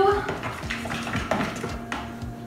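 Banana chocolate chip muffin batter is stirred in a bowl, with a spoon or whisk repeatedly scraping and clinking against the bowl in a quick, uneven rhythm up close.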